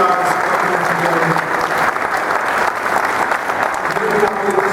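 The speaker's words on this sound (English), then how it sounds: "we should give the moms and dads and husbands and wives a round of applause" A crowd at a sheriff's office class graduation applauds the graduates' families, steady dense clapping filling the hall for several seconds at fairly loud level.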